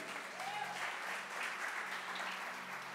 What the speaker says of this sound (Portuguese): Dê um aplauso a Jesus aí